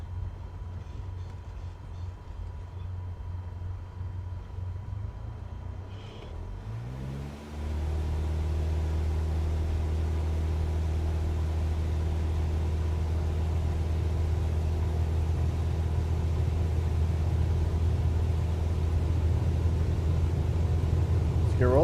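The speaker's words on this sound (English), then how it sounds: "I think in like cabin engine noise could be a little bit louder personally" Aircraft cabin engine noise in a flight simulator game, a steady low drone that deepens and grows louder partway through as the engines spool up, continuing evenly to the end.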